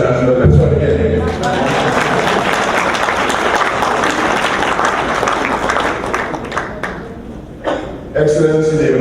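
A large ceremony crowd applauds the Vice Chancellor at a diaspora conference opening in Guyana, loud dense clapping that thins toward the end, with a voice briefly at the start and close.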